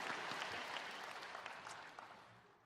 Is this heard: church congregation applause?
yes